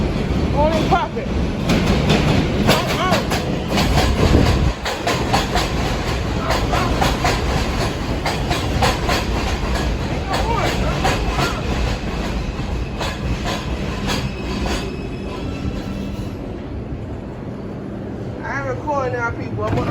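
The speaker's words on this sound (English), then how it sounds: "Here's a 2 train approaching the station." A New York subway 2 train rumbles into Nereid Avenue station, a long loud roar of wheels and clattering rail joints that eases off as it slows, with faint squeals near the end.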